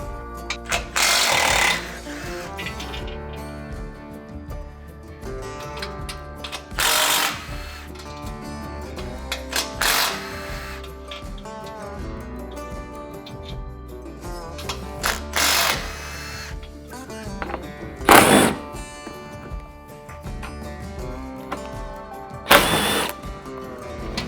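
A power tool backs out the 14mm and 10mm crash bar bolts on a Toyota Tacoma, firing in several short, loud bursts separated by quieter stretches of mechanical noise, with no talking.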